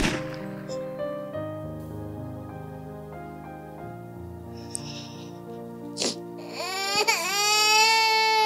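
A human baby cries, starting with drawn-out tonal wails and building to a louder, strained sobbing cry near the end, close and alone with a few small knocks in between.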